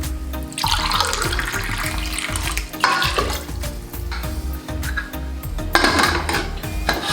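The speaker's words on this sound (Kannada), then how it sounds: "ಮೂರು ಲೋಟ ನೀರು ಹಾಕ್ತಾಯಿದ್ದೀನಿ." Three glasses of water poured one after another into a pressure cooker holding lentils, onion and tomato for fenugreek-leaf sambar, a close, steady splashing broken into three bursts amid clinks of metal vessels.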